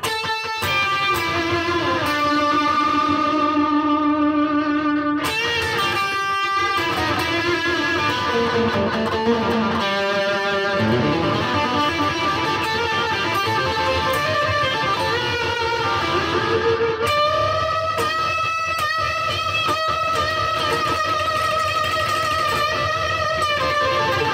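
Sustained electric guitar tone through a Tumnus overdrive pedal, mild overdrive, chords and melodic lines ringing out continuously at steady loudness with no talking.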